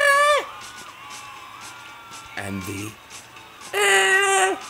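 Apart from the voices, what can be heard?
two different screams from a video game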